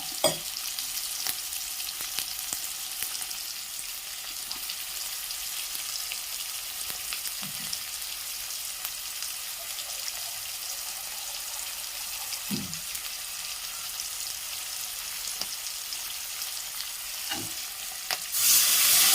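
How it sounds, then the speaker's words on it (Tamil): Black peppercorns fry and are stirred in hot oil for a country chicken fry, a steady close sizzle broken by a few soft utensil scrapes and knocks against the pan, with no talking. "மிளகு நல்லா எண்ணெயில் வணக்கி கொடுத்துருவோம்"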